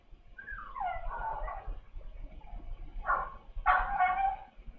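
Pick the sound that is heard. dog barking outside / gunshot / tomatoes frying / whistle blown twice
dog barking outside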